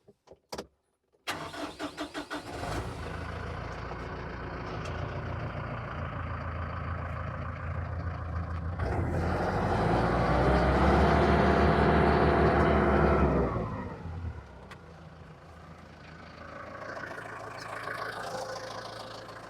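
A Bush Hog 286 rotary mower with a rebuilt slipper clutch rumbles steadily under a running engine, swells louder as the blades spin up, then drops sharply when shut down, leaving a quieter drone.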